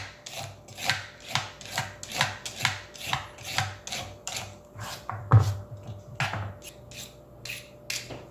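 A knife cuts and scrapes carrots on a board in steady, rhythmic strokes roughly twice a second, close and moderately quiet, with a slightly harder knock near the middle and a faint background hum.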